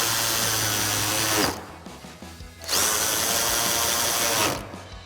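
A power drill drives a 7mm socket onto the headlight mounting screws of a 2007-2013 GMC Sierra 1500, two loud, steady whirring bursts separated by a short pause, close up with no talking.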